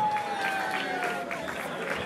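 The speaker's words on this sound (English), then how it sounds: "Round of applause, come on!" Guests clap at a wedding reception, a brief, moderate burst of applause with a few voices and cheers mixed in and a thin tonal whine above.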